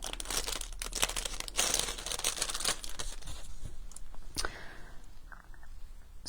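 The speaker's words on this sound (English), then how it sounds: "So what I'm going to do is thread the ribbon through like that." Ribbon being threaded through a die cut paper tag, producing close, soft crinkling and rustling of paper and ribbon that is busier at first and then thins into sparse small scratches.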